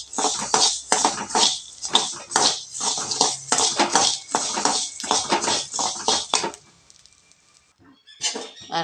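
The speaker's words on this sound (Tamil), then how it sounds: "நல்லா வறுத்துக்கிடுவோம்." Coriander seeds dry roast in a pan, giving a loud, dense rattling patter of seeds tossed and scraped against metal in quick bursts that stop abruptly near the end before a brief final clatter.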